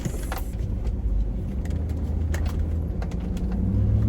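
A car driving home from work in light traffic, with a steady engine and road rumble heard from inside the cabin and occasional faint ticks and rattles, without any talking.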